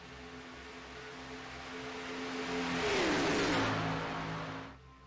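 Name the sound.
race cars driving out of pit road in racing video game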